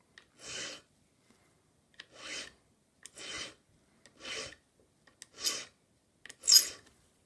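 Six evenly spaced rasping file strokes, close and isolated, squaring off the end of a brass clock pin during a vintage English Enfield mantel clock service.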